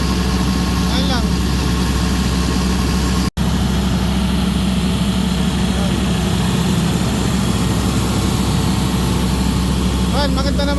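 A rebuilt Caterpillar C7 diesel engine idles loudly and steadily, a dense low rumble with a continuous mechanical clatter, close by and unbroken apart from a momentary dropout, with no speech over it.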